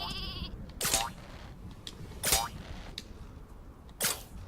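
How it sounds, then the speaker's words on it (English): Sheep bleating in the Worms video game, where a sheep on a rope weapon is used: three loud, wavering bleats spaced about a second and a half apart over a busy game background, with a short electronic tone at the start. "I'm going to use a sheep on a rope."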